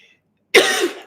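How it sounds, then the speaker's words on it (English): A woman gives one abrupt, close cough that trails into a short rasping exhale, after a moment of near silence. "I'm going to cough"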